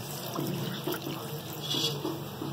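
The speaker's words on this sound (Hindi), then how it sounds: "ये हमने पानी डाल दिया" Water poured from a tap or vessel onto raw kaleji liver being cooked: a continuous gentle splashing and trickling, close and moderately quiet, no talk.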